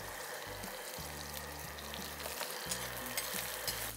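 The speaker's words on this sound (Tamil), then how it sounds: "இந்த மாதிரி க்யூப்ஸ் பண்ண வெங்காயம் ஒரு 3 வெங்காயம் 3-4 வெங்காயம் நான் இந்த ஆயிலில் போடுறேன்." Three to four cubed onions dropped into hot oil make a faint, continuous sizzle with a soft bubbling crackle throughout. No one speaks.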